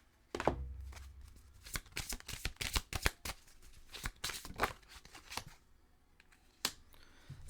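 Playing cards are shuffled close up for a guidance card reading: a steady run of crisp riffling clicks and flutters, with no one speaking.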